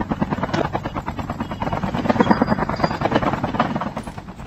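A helicopter flies nearby in Call of Duty Mobile, its rotor producing a steady rapid chopping throb that stays loud throughout.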